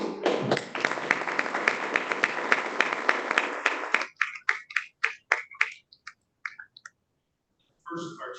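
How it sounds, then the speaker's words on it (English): Clapping from a small group at a board of directors meeting, a brief patter of hands for about four seconds that thins into a few scattered, separate claps before falling silent, then a short noise near the end. "Applause."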